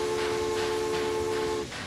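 A Prussian steam locomotive in Transport Fever 2 holds a steady, loud whistle-like tone over rumbling, hissing rail noise, the note cutting off near the end while the train keeps rolling.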